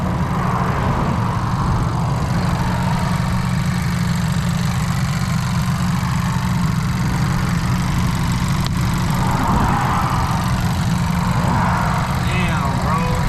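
A 10th-generation Honda Civic Si engine runs at a steady idle, a constant low hum with occasional faint cracking noises and brief mid-range rises, close and continuous throughout.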